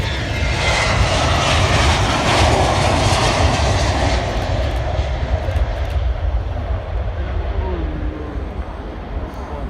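A test airplane's engine roars loudly close by during takeoff, a broad powerful drone that gradually fades as it climbs away, with voices faintly underneath.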